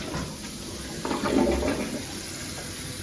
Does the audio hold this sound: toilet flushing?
yes